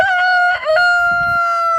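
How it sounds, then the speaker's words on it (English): A rooster crows loud and close in a farmyard, one long sustained cock-a-doodle-doo with a brief break partway through, then the call drawn out again with soft clucking and farm noise underneath. "The one that's doing some crowing"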